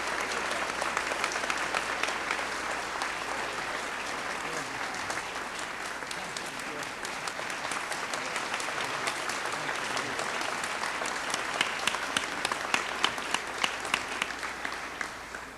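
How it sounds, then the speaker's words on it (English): Sustained applause from a large audience at an education building dedication honoring honorary degree recipients, dense continuous clapping heard from a distance, steady throughout and swelling slightly toward the end. "one more round of applause for all four recipients of honorary degrees"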